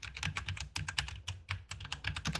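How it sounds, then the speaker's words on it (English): Fast, clattery typing on a computer keyboard, a close and fairly loud burst of quick keystrokes with no voice over it. "apologies for the typing noise."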